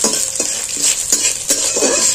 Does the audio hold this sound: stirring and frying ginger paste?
yes